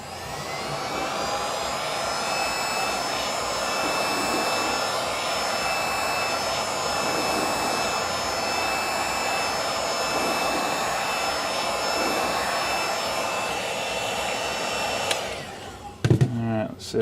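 A heat gun blows steadily on the glass front panel of a Pioneer SX-750 stereo receiver, a loud continuous whooshing roar with a faint whine that runs for about fifteen seconds, then cuts off, followed by a few clunks.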